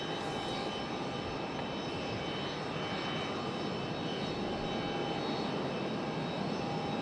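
A JetBlue jet airliner at Raleigh-Durham International Airport gives a steady, broad engine roar that holds at moderate distance for several seconds, with no talk.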